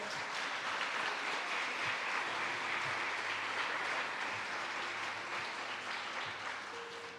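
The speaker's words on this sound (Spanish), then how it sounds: "Denle un aplauso, Señor." A congregation at a Spanish-language Christian church service applauds steadily, a soft, sustained wash of clapping heard from a distance with low background rumble.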